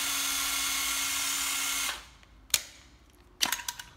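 An old Japanese 9.6V cordless drill whines steadily at close range, then stops and leaves a few sharp mechanical clicks in near silence.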